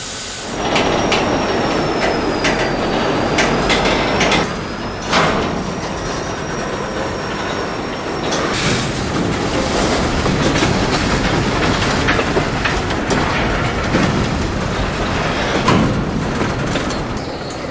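A local freight train switching boxcars for a customer, moving slowly close by, with steady rumbling, clanking couplers and metallic wheel squeals rising over the continuous noise.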